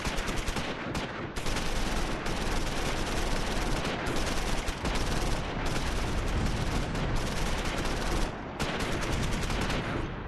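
Sustained, dense battle noise from the Normandy-era war game Close Combat V, with mortar and gunfire crashing in a steady loud barrage that barely lets up for ten seconds, with no talking.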